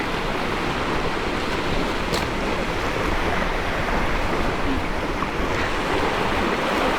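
Calm water lapping at a deserted white sand beach, a steady near wash of gentle surf mixed with light wind and no voices.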